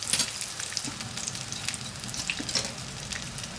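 Onion rings, Burger King style, deep-frying in hot oil give off a steady close sizzle with dense crackling and popping bubbles, with no talking.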